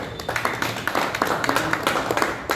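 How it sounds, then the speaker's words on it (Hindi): A crowd of audience members claps hands together at a talk or seminar, a dense run of sharp slaps that keeps going steadily and fairly close for a few seconds, with no voices over it. "जरा एक बार ताली बजा दो"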